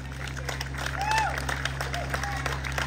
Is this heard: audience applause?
yes